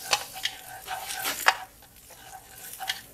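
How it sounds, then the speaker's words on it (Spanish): Butter and garlic stirred in a hot pan for a creamy macaroni dish, a steady soft sizzle broken by scraping stirs and light clinks of the utensil against the pan, close and moderately loud. "vamos a poner nuestra mantequilla, agregar nuestro ajo"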